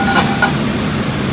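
A steak sizzles loudly in a hot pan as it is turned onto one side, a close, constant hiss with a couple of brief scraping touches near the start.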